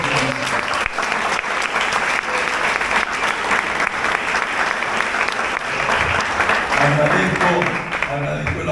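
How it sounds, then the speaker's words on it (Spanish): An audience at a talk by a cardinal in Morocco breaks into steady, dense applause that fills the whole stretch loudly, with voices and cheers rising through it near the end. "agradezco el aplauso"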